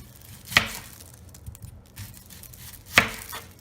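A knife dicing a medium onion on a cutting board, two crisp, distinct chops a couple of seconds apart with faint tapping between, close and fairly quiet.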